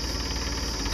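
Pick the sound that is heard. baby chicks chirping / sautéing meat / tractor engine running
tractor engine running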